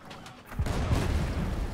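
Cannon fire from a ship in the naval combat game Blazing Sails, a heavy low boom that starts about halfway through and rumbles on to the end.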